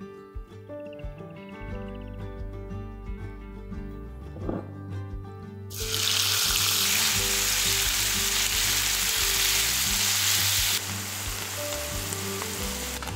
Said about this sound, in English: heat some oil in a skillet and cook 400 grams of minced meat for about 10 minutes